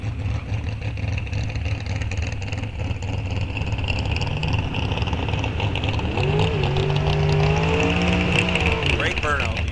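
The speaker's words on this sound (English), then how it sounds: "Levi burns it out past 330 feet." Bracket drag racing car doing a burnout at Rock Falls Raceway, engine roaring under a commentator's voice, then revving in rising, climbing pulls near the end.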